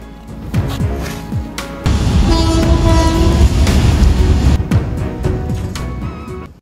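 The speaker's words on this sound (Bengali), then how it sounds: "হাওড়া থেকে সকাল 10টার শান্তিনিকেতন এক্সপ্রেসে চড়ে আমরা এই দুপুর 12টার সময় নামলাম গুসকরা স্টেশন" An express passenger train runs through Guskara station in West Bengal, a loud continuous rumble with wheel clatter and a sustained horn blast in the middle, fading slightly toward the end.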